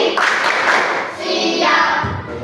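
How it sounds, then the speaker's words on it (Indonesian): Students in a classroom perform the 'tepuk konsentrasi' clapping chant, dense rhythmic hand claps close up with children's voices chanting along, loud and continuous throughout. "saya ingin tepuk konsentrasi. Tepuk konsentrasi."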